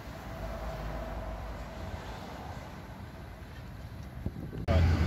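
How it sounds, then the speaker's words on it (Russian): A tram rumbles and rolls away from its terminal stop in Antalya, a steady mid-level rail noise with outdoor wind that ends in a sudden louder clunk. "Сейчас он отъедет за стрелку, постоит и через время поедет обратно."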